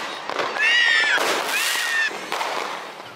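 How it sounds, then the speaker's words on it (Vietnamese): Fireworks and firecrackers go off on Tet New Year's Eve: rising whistles from rockets over dense, continuous crackling and popping bursts, loud and close. "có cả pháo hoa lẫn pháo nổ."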